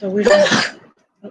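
A person sneezes once, loud and close, mid-sentence in an otherwise spoken moment, followed by a brief pause and a faint sound as speech resumes.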